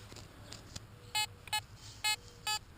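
A Fisher F22 metal detector swept over a buried target gives four short, clear electronic beeps at an even pace, close and distinct against a quiet outdoor background.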